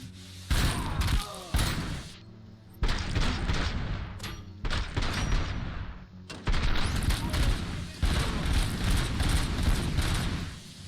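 Automatic weapon fire in the video game Robocop: Rogue City, with several loud bursts of rapid shots separated by brief pauses, plus thuds and impacts between volleys.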